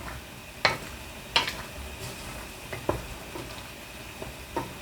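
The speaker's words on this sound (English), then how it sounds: "this is just going to get a nice stir to incorporate those petals" Lilac petals are stirred into boiling simple syrup in a pot, with a spoon giving a few soft scrapes and clinks at irregular intervals over a faint bubbling simmer.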